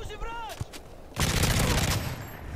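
Modern Warfare 3 Spec Ops Resistance gameplay: a few faint sounds and a brief tonal sweep, then a sudden burst of loud rapid gunfire rattling for over a second.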